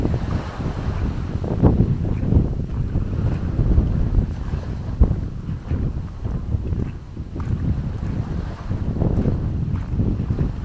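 Strong wind buffets a boat at sea near El Nido, Palawan, roaring steadily into the microphone with gusty swells and rumbling low noise for about ten seconds, with no talk over it.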